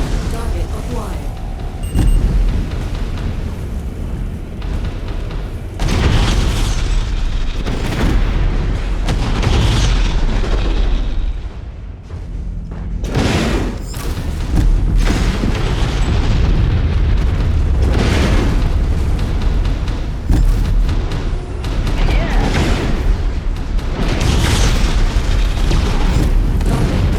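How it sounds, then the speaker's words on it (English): Heavy explosions boom repeatedly through MechWarrior 5 combat as destroyed mechs blow up, loud rumbling blasts piling over one another with game voice callouts in between. "It's gonna explode."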